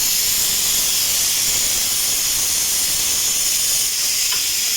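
Curry leaves hit a hot pan of oil with a loud, close, hissing sizzle that stays dense and steady from start to finish, and no voices are heard over it.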